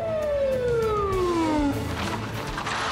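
Police car siren from a dubbed TV drama, a loud descending wail that sweeps down steadily for under two seconds and then cuts off, leaving steady background noise.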